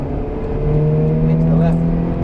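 Ferrari engine accelerating hard around the Silverstone circuit, a loud, steady rising drone with climbing pitch as it pulls through the gear, with an instructor's voice talking over it.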